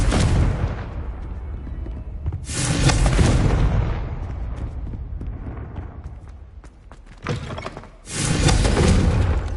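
Spell blasts from the Incendio and Confringo spells in the Hogwarts Legacy video game, with loud booming explosions and roaring fiery bursts that swell, fade and hit again near the end.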